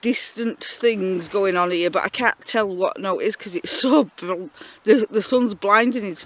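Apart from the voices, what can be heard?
No everyday noises stand out.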